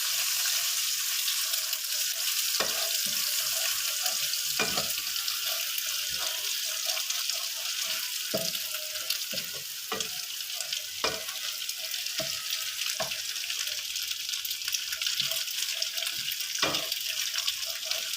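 An egg fries in a hot pan for baby-food macaroni, giving a steady, bright sizzle throughout with scattered sharp pops and light scraping clicks close by.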